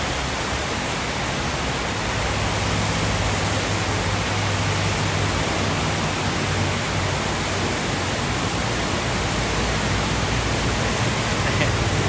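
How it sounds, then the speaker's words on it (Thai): Steady, dense broadband hiss of heavy rain pouring continuously, loud and close, the first rain of the year over city traffic, with a faint low rumble underneath and no voices. "ไอ้นี่คือเสียงเสียงฝนตกนะตกหนักมากๆ"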